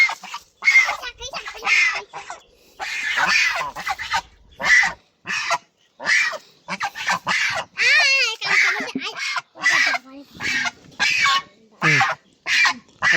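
Domestic geese honking loudly and repeatedly in short, harsh bursts close by while being caught, with people talking between the calls.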